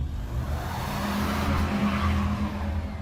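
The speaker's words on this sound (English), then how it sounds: "The tires spun on the ice for this terrifying second before catching, and we started moving." Car tires spinning on ice as a driver floors the gas on a snowy night, a steady loud engine drone with a high squealing skid running throughout.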